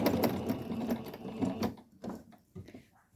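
A home sewing machine stitches in quick mechanical bursts with brief pauses and reversals while backstitching a children's vest, whirring close and clear.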